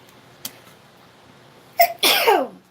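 A single sharp sneeze bursts out close by after a brief intake of breath, loud and abrupt, with a small click earlier in the otherwise quiet room.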